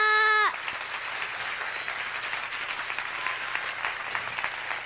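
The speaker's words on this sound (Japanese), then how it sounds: "もう一度最後に大きな拍手でお送りください" A festival audience at a 10th-anniversary stage event applauds warmly to send off a departing guest. A short held tone sounds first, then thick, even clapping carries on without a break for over four seconds.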